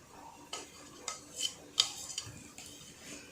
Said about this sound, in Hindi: वेजिटेबल को इसमें डालकर मिक्स करेंगे।